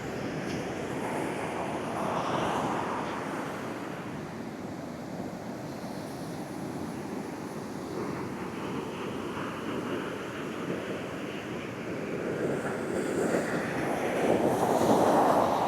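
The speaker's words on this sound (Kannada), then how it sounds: "ಇಲ್ಲಿ ಬಂದ್ರೆ ಒಂದೇ ಕೇಳುದು ಅಲೆಗಾಲ ಸದ್ದು ಮಾತ್ರ." Ocean waves at Mangaluru beach wash in as a steady, rushing roar, swelling louder toward the end, with heavy wind buffeting the microphone throughout and no talking.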